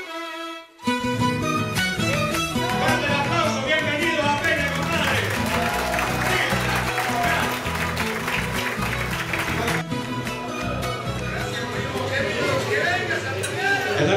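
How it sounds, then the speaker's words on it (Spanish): Applause and cheering for a band at a peña folk music night fill the room after a brief gap, steady clapping mixed with music and an announcer's amplified voice over the top. "Fuerte el aplauso para ellos, allá atrás. Bien arriba los aplausos."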